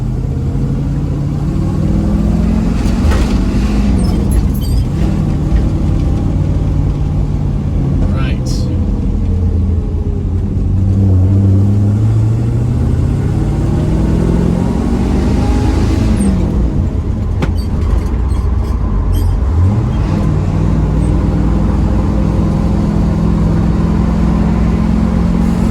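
A 1968 Chevrolet Camaro SS engine hums in a low, steady rumble while cruising at about 40 mph, with pitch rising and falling gently through gear and throttle changes as someone talks over it inside the car.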